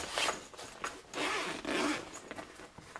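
A zipper on an Eagle Creek Tarmac AWD 22 rolling suitcase is pulled in a few quick, close, raspy strokes with short pauses between them.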